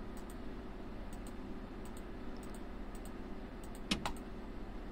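Computer keyboard keys are clicked while playing a London Underground train simulator game, sparse sharp taps in small clusters with one louder double click near the end, over a low steady hum.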